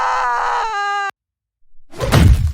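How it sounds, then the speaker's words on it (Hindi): A cartoon character shot in the eye with an arrow lets out a loud, sustained, tonal scream that cuts off abruptly, followed by a brief silence and then a rough, noisy burst. "जैसे ही तीर उसकी आंख में लगा और वो जोर से चीखने लगा।"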